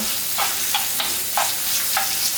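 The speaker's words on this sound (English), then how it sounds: "My heat is on medium low, so that's a quick stir." Blood pudding frying in oil over medium-low heat, a steady close sizzle broken by about five quick scraping stirs in the pan, with no talk.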